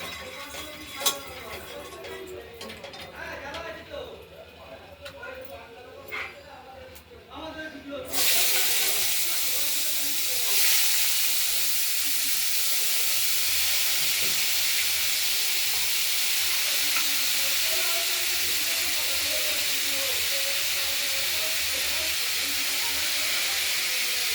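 Strips of beetroot, carrot and sweet potato drop into hot oil with a sudden loud, steady hiss and crackle that continues close up, after a quieter stretch of kitchen noise.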